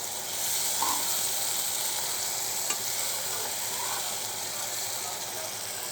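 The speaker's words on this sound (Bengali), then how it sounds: "আর একটু নেড়ে চেড়ে দেই।" A masala spice paste sizzles in a frying pan while being stirred, a steady, fairly quiet hiss with occasional soft scrapes and a single brief clack near the middle.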